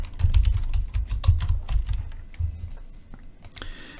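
Fingers type on a computer keyboard at a desk, a close burst of quick irregular key clicks that thin out toward the end, with no voices.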